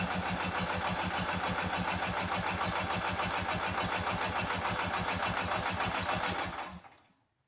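An engine cranking steadily on the starter with its fuel system completely empty, a fast rhythmic churning that runs loud and unbroken for several seconds without catching, then winds down and stops.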